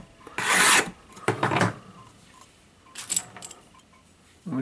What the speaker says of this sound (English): deburr and check it with a file as we go